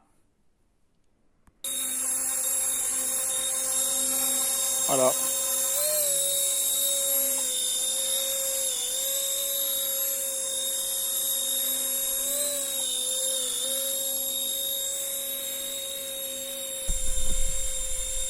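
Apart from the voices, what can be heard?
RC model helicopter flying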